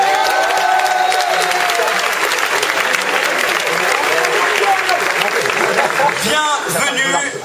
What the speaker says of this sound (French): commencer par vous applaudir.